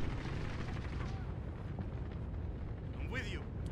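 Automated sentry gun fire in Call of Duty: Modern Warfare rattles amid dense battlefield noise, rapid bursts blending into a constant rumble of combat, with a voice speaking over the din.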